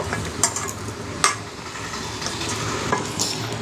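Food is worked together by hand with turmeric, chili powder and chicken masala in a home kitchen, producing soft, wet squelching and stirring sounds with a few sharper clicks, up close and with no voices.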